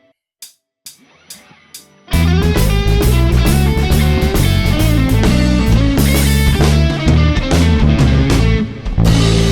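A9 chord on a blues guitar: a few sparse picked notes, then a loud, full band groove kicks in with steady drums and bass under the ringing chord, continuing to the end.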